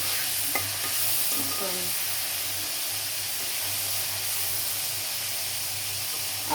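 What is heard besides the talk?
boiled noodles stir-frying in oil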